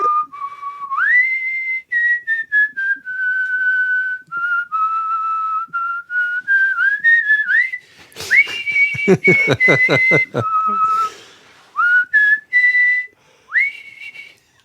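A person whistles the Star Trek theme tune, a clear close melodic line with sustained and gliding notes, briefly interrupted midway by a burst of other sound before the whistling resumes.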